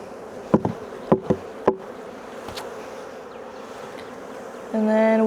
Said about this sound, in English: there's quite a bit of bees